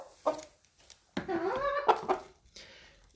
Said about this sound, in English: Stormy's alerting Kagome through his little chuckle clucks.